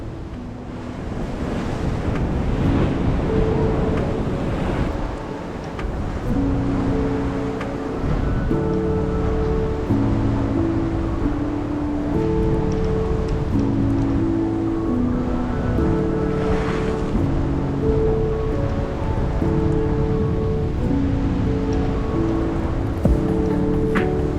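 Steady roar of surf and rolling waves on an Oahu, Hawaii shore with wind buffeting the microphone, continuous and loud, with a low droning tone underneath.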